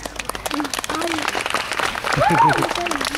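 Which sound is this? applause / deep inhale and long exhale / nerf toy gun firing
applause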